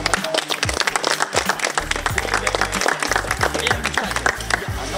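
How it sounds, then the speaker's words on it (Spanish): At a boxing club tournament, the crowd gives a loud, steady round of applause, heavy with dense clapping, while a low booming tone from the hall sound system runs underneath. "un fuerte aplauso para ustedes mismos."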